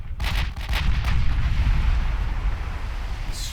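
Battleship guns fire in Ultimate Admiral Dreadnought: heavy booming salvos crowd together in the first second, then give way to a long, deep rolling rumble that fades slowly.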